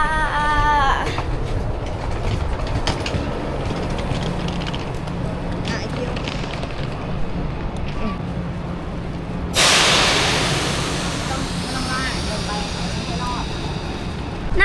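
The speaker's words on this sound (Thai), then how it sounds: "ตอนนี้รถไฟก็จอดแล้วนะคะ" A high-speed train rumbles steadily while stopped at a station in Zhangjiajie, China, with a loud hiss of releasing air partway through, people talking and a Chinese announcement over the noise.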